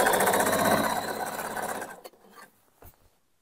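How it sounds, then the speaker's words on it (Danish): A sewing machine runs a steady, rapid stitching whir along the top hem of a girl's dress, close and loud, then stops and is followed by a few soft handling clicks. "jeg syr en stikning rundt i den øverste kant"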